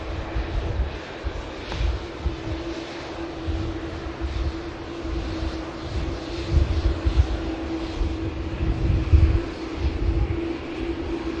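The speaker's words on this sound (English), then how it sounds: "2E Dreamliner heading out to Cancun." Dreamliner jet taxiing out at Manchester Airport, bound for Cancun, a steady low engine rumble with a sustained hum, fairly close and even throughout, swelling slightly near the end.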